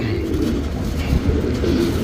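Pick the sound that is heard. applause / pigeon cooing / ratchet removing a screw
pigeon cooing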